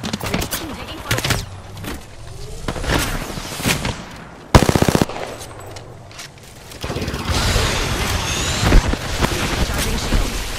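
Video game gunfire peppers the player's ship in bursts of rapid automatic shots and booming impacts, loud and dense, with a sharp crack midway and heavier fire toward the end.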